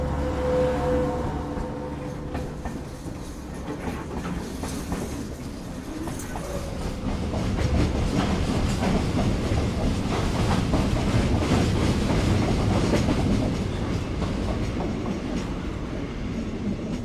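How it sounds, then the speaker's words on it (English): A train passing close by, a loud continuous roar of rail cars with rhythmic clickety-clack from the wheels building and holding throughout. "there's another train."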